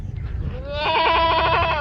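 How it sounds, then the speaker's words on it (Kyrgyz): A dairy goat gives one loud, close bleat, a wavering tremulous cry that rises out of low rustling and holds for about a second. "Мына суу эчки."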